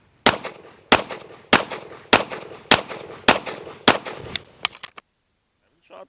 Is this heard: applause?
no